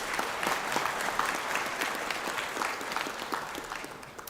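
A ceremony hall fills with sustained applause for graduates at a conferring ceremony, many hands clapping at once in a dense, steady roar with no speech over it.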